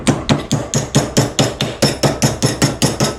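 A ball peen hammer beats along the seam of sheet metal during a four-barrel carburetor swap in a garage, giving about fourteen sharp, evenly spaced ringing blows in quick steady rhythm, close and loud.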